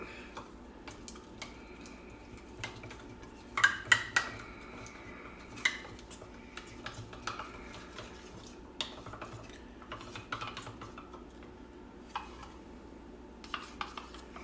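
Cornstarch and water slurry being mixed with a spoon in a small bowl or cup, giving soft scraping, clinks and swirling, with louder clatter bursts in the middle and sparse taps near the end, no talking.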